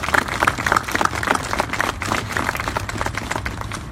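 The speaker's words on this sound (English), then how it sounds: "A round of applause for all of you in East Windsor." A crowd at a ceremonial demolition for an East Windsor, Connecticut casino claps for community members, a dense, steady patter of applause heard close and sustained throughout.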